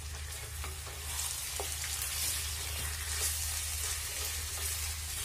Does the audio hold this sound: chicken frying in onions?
yes